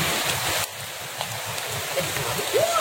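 Steady rain falls in a continuous hiss, with a few faint sounds of movement on top and a low murmur underneath.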